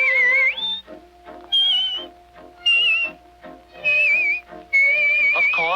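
A bright whistled tune in five short phrases, clear and close, over a soft, low sustained accompaniment.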